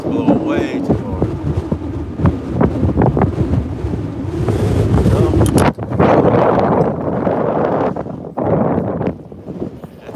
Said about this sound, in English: That's how hard the wind's blowing.